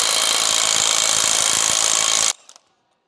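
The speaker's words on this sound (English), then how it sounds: "Using an electric impact wrench with a 1/2-inch to 3/4-inch adapter and a 36-millimeter heavy-duty socket to remove the axle shaft retaining nut." An electric impact wrench fitted with a 1/2-to-3/4-inch adapter and 36 mm heavy-duty socket hammers loose the axle shaft retaining nut on a Jeep Wrangler JK, a loud continuous rattling burst that stops abruptly, followed by a few faint clinks.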